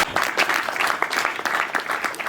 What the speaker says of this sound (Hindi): तो ताली बजा के दिखाइए कि आप कितने होशियार हैं